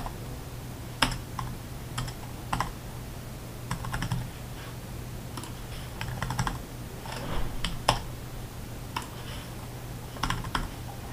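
Steady typing on a computer keyboard, a run of close, crisp key clicks with irregular rhythm and occasional louder taps, with no voices.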